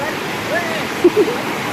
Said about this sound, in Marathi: पाण्याचा प्रवाह जरा जास्तच आहे